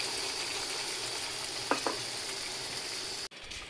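Cumin paste sizzling in oil as turmeric and chili powder go in: a steady close frying hiss, two quick stirring knocks near the middle, then an abrupt cut to a quieter sizzle at the end, with no speech.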